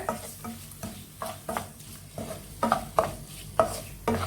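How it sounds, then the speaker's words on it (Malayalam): Salted bilimbi pickle is stirred in a pan with a spoon, making a rhythmic series of soft scraping strokes about twice a second over a faint sizzle. "5 മിനിറ്റ് ഇതിലിട്ട് ഇളക്കിയെടുക്കാം"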